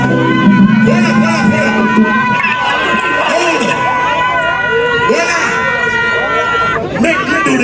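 Dense crowd babble and shouting fill an outdoor event at a ranch in Portmore, Jamaica, a steady loud hubbub with cheering swells and voices over the top throughout.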